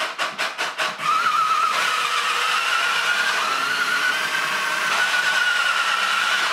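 A 1999 R.A.D. 2.0 toy robot starts with a few rapid clicks, then its small electric drive motors whir in a steady, loud, high whine that holds for several seconds.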